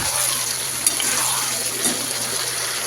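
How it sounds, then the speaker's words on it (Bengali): Potatoes stirred and fried in a pan for chicken curry, a steady close sizzle with a couple of light spatula knocks and a faint hum underneath. "আলু দিয়ে দিয়েছি, এবার ভালো মতো নেড়ে একটু কষাবো।"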